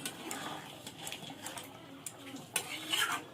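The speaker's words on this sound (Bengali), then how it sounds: "বিরিয়ানি মশলাটিকে মিশিয়ে দেবো।" Biryani masala being stirred into meat in a pot, heard as faint, scattered scrapes and light clinks of a spoon against the vessel at an even, unhurried pace.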